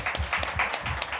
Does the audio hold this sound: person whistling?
no